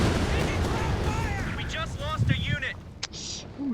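Panzerwerfer rocket artillery in Company of Heroes 2, heard as a dense rumble of battle explosions and whooshing rocket salvos with a rising screech, while players talk over the din.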